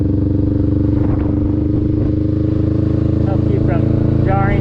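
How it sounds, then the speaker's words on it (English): A motorcycle crosses bumpy railroad tracks with a steady loud engine drone, while clattering jolts and scrapes break through as the wheels hit the rails. "when crossing railroad tracks, you can actually stand up on your pegs, use your legs as shock absorbers as you're going over the bumps"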